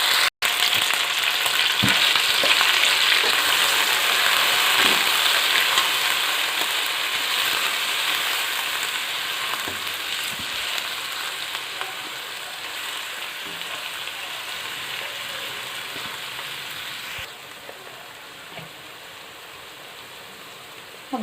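Garlic and coriander sizzle steadily in hot oil in a chicken kadai, a dense, loud frying hiss that holds for about seventeen seconds and then eases slightly in level, with no voices over it.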